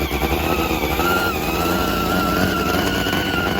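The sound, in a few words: top fuel nitro motorcycle engine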